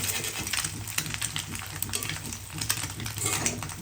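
Oil spitting and sizzling in a frying pan, with a steady dense crackle, stirring scrapes and small utensil clinks close by, no voices.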